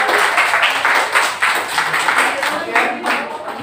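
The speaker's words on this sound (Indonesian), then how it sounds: "Oke, terima kasih tepuk tangan." A classroom of students claps in short rhythmic bursts, close and lively, the uneven pulses of hands dominating with a bit of voice mixed in.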